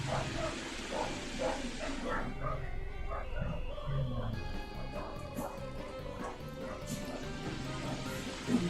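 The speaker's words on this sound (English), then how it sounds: "The dogs are barking." Several dogs bark repeatedly in the distance, fairly faint, with yips and whimpers mixed in over a low background hum.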